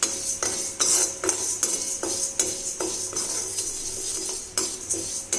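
Moong dal roasting in a hot pan is stirred with a spoon, giving repeated sharp metallic scrapes and clinks at an uneven rhythm over a faint sizzle, close up and without talk.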